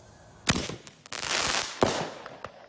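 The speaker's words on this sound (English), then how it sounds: "Total chaos is the name of the firework." A consumer firework called Total Chaos set off at a home Fourth of July safety demonstration gives several sharp, loud cracks and bangs in quick succession, with crackling bursts between them.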